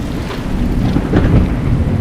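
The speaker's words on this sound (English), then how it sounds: "That's some loud ass rain, I'll tell you that." Heavy rain pours and thunder rumbles in the Fallout 3 video game, a loud, dense, continuous roar close up with no speech over it.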